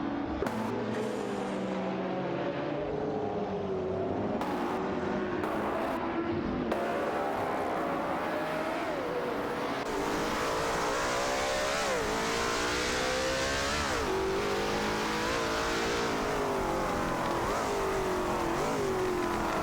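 Race car engines in an AI racing game, including a Hennessy Venom F5 and a Chrysler, roar continuously and loudly, revving up and down through gear changes with rising and falling pitch and no talk over them.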